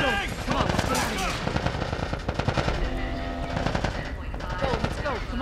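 Rapid automatic gunfire and scattered shots in The Last of Us Part 1 fill a tense firefight, dense and continuous over shouting voices and game music.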